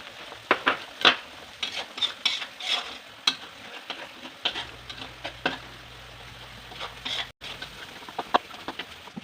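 Spices stirred and fried in a pot for chicken biryani, with repeated scraping stir strokes and a steady sizzle at close range, no talking.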